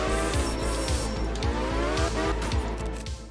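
A rally car in the video game art of rally runs with a buzzing engine and a rapid, regular thumping pulse. Faint tire squeal rides over it for a few seconds, with no speech.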